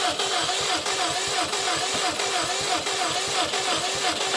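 A Subaru STI drag car engine cranks with a steady rapid rhythmic chug, loud and close, continuing throughout without any talking.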